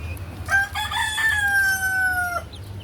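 A White Lander rooster crows once, a long drawn-out call rising then trailing off, fairly close over a low background hum.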